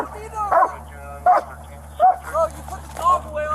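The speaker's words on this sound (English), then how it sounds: "No, the dog's there, I'm scared of the dog." Dog barking near a car or truck, sharp, close barks coming in an uneven rhythm roughly every second, with some whimpering yips, over a constant low engine hum and people speaking in between.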